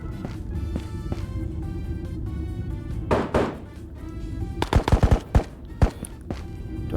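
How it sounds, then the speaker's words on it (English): Gunfire breaks out around a corner in an extraction shooter video game: a muffled thump, then a rapid cluster of sharp shots followed by a few spaced single reports, set against steady background ambience. "Oh shit, wait, that's shooting around a corner."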